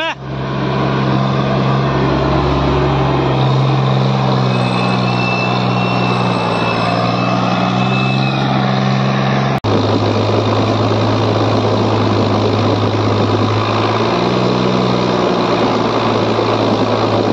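Tractor engine running steadily at idle while a bucket load is unloaded, a continuous low rumble with a brief pitch change midway, close and fairly loud.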